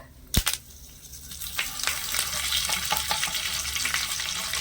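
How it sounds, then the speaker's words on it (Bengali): Curry leaves hit hot oil with dried chillies in a pan: a sharp crackle on contact, then a loud, steady close sizzle with scattered pops. "এবার আমি দিয়ে দিচ্ছি একটু কারি পাতা"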